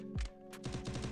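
Video game gunfire, quiet and compact: one single shot, a short gap, then a quick, evenly spaced run of automatic shots.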